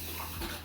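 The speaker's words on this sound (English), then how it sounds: "I have a dog drinking water right beside me." A dog laps water from a bowl close by, a short burst of wet sloshing and splashing against a steady low hum indoors.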